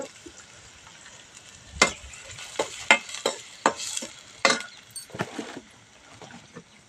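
Onion and green chilli fry in a pan while a spoon stirs them, giving a soft sizzle broken by a series of sharp scraping strokes against the metal at an irregular pace.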